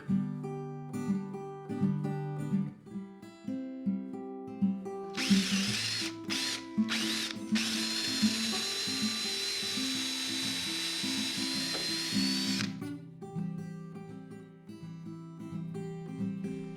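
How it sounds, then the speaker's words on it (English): A power drill bores a deep hole through the center of a wooden 2x4 support for a garage workbench: a loud, steady whine with a few brief stops at the start, set between quieter clicks and knocks of handling. "Followed up by drilling a deeper hole through the center of the support."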